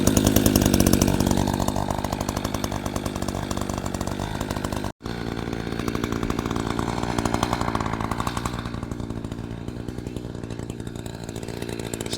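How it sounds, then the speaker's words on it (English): Chainsaw warming up before bucking firewood, its engine buzzing loud and steady with a rough idle-like drone, cutting out for an instant midway and then running on at an even pitch. "The saw to warm up. You don't want to go to cutting right away."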